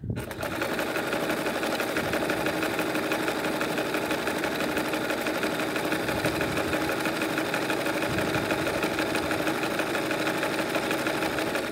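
A sewing machine running steadily, stitching vintage needlework onto the base of a coiled rope bowl, a close, continuous rapid mechanical whir and chatter that starts abruptly and holds an even rhythm with no talking.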